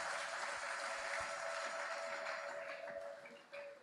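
Continuous applause from a church congregation, a dense steady clatter of clapping hands filling the room throughout, with a sustained tone running beneath it.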